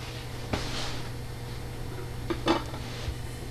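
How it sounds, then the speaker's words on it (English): A plate is set down on top of a chilled chocolate cake-topper mold, giving two or three light, close knocks and clinks against a low steady background hum. "To demold, place a plate on top,"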